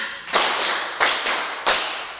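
Students in a class ice-breaker clap a five-count pattern together: a crisp opening clap, a pause, then a quick run of claps, each ringing out in a reverberant room.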